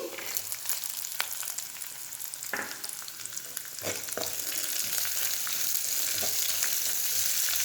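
Soaked chana dal sizzles steadily in a pan with browned onions, a continuous close frying hiss broken by occasional stirring scrapes, with no talking.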